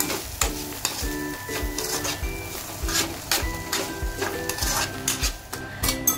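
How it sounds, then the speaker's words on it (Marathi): Minced prawns sizzle in a pan while a utensil stirs them, scraping and clinking against the metal in a steady rhythm. The sizzle runs continuously underneath the close stirring. "बारीक पीस करून घेतलेली कोलंबी आपण त्यात टाकलेली आहे."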